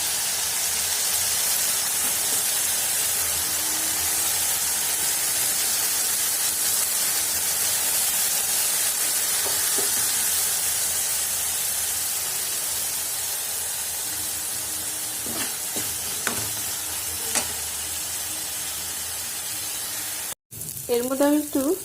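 Spice masala frying in oil for a Bengali cauliflower dish, a steady loud sizzle and hiss running throughout with a few soft stirring scrapes near the end and a brief voice at the close.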